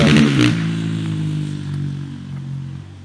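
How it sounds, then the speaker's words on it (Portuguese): A motorcycle passes on a forest trail, its engine loud and close at first and then fading steadily as it moves away, with no talking. "Tem uns pessoal que passa de moto aqui, ó."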